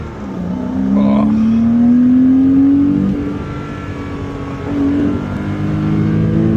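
A Porsche 987 Boxster S engine runs nearby and is revved twice, its pitch climbing and holding before easing back, then rising again in a second shorter rev.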